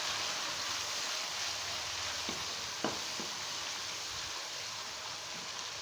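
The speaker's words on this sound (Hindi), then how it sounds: "अब हम इसमें अपने सारे स्पाइसेस डाल देंगे। हल्का सा इनको भूनेंगे।" Spices frying in tomato paste for Pakistani daal mash, a steady close sizzle and crackle that continues evenly, with a few soft spoon taps against the pot partway through.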